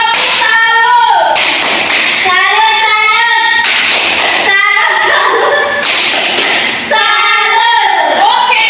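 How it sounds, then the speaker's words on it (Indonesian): A classroom doing a tepuk salut clapping routine, loud sharp bursts of group claps in a rhythmic pattern alternating with children chanting together in unison, close and energetic. "Kita sekali tepukan dulu. Tepuk salut."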